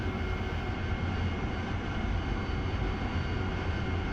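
A military jet in a flight simulator game spools up for takeoff, a steady loud broadband engine roar holding throughout with no talk.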